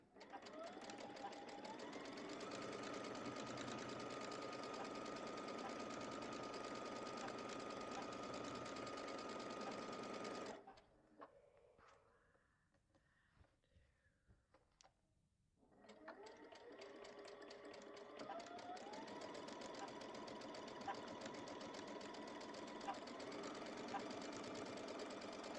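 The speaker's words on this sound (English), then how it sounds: "we're back at the sewing machine with our first 12 that are going to actually turn into a total block" A sewing machine stitches patchwork pieces for an arrow block in steady, loud continuous runs, stopping for a few seconds midway before starting up again, with no talk over it.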